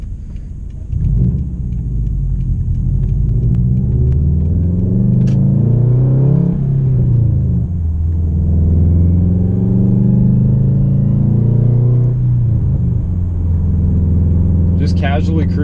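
A straight-piped 2013 Subaru WRX cruises at light throttle, its exhaust droning loud and steady with rising and falling engine tone and faint pops, heard from inside the car with a person talking over it.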